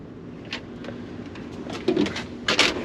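A Snap-on tool box drawer slides open close by, with brief scraping and knocking. It stops short against wood in the way, and a few sharp clicks and rattles follow toward the end. There is no talk.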